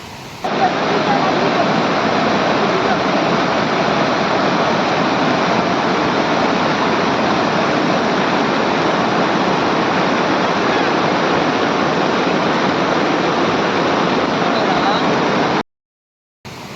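A loud, steady roar of rushing water pouring over a weir, dense and unbroken, cutting off abruptly near the end.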